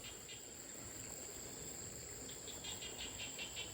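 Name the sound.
frogs croaking in a rice field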